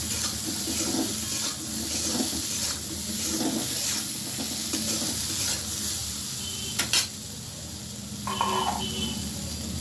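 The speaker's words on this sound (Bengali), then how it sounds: "আমি এবার পরিমাণ মতো জল দিয়ে দিচ্ছি" Raw plantain pieces sizzle and get stirred in a cooking pan with turmeric and salt, a steady crackle with utensil scrapes, then a short pour and splash of water near the end; no talking.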